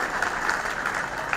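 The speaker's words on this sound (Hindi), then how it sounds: "ताली बजा सको तो बजा, कोई बात नहीं है।" Dense audience applause at a Chaturmaas Kalash Sthapana religious gathering in Indore, a steady wash of many hands clapping together, loud and continuous with no gaps.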